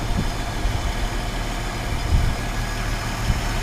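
A 1950 Chevrolet 3100 pickup truck engine idles quietly and steadily, a low rumbling drone with a few soft bumps and no talking.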